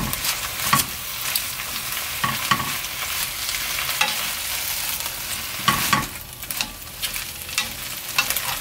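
Freshly washed, still-wet spinach sizzles and hisses over high heat in a pan with a spoonful of sesame oil, a dense continuous frying noise broken by occasional scraping stirs, close and steady without speech.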